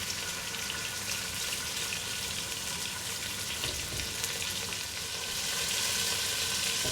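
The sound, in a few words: meats frying in hot fat for feijoada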